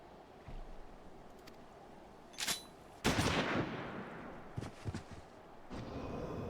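Flintlock guns fire in a video game: several sharp shots ring out, one loud blast followed by a long fading rumble, then a few quicker cracks, all close and standing alone without talk.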